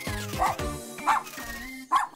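A cartoon robot dog yips and barks in three sharp, close bursts spaced through the moment, with whimpering tones between them.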